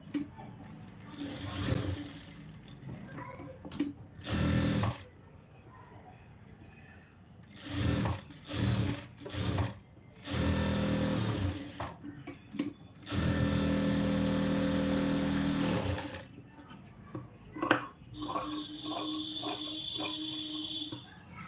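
A sewing machine stitching a lined blouse runs in repeated bursts of steady whirring, stopping and starting between seams, with someone talking in the pauses.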